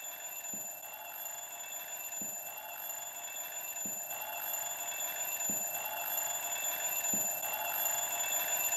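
An alarm clock rings continuously inside a glass bell jar as air leaks back in, its steady high metallic tone gradually growing louder, with faint periodic hissing pulses of entering air beneath it.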